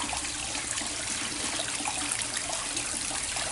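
Small waterfall trickling into a first garden pond in a backyard water feature, a steady broadband splash and trickle that stays even and close throughout, with no voices.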